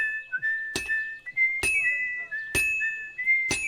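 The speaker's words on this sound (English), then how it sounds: "You go with the whistling?" Steady melodic whistling at the smithing minigame in Kingdom Come: Deliverance 2, punctuated by four sharp, evenly spaced hammer-on-metal clinks ringing out over the tune.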